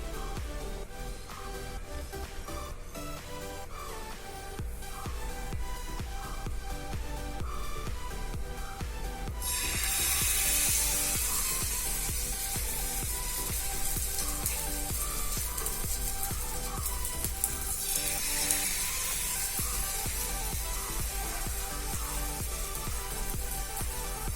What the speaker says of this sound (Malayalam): ഇനി ചക്ക ഓരോന്നായി മാവിൽ മുക്കി വറുത്തെടുക്കാം.